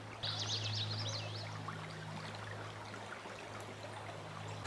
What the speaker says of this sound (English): This part of the creek's pretty high right here.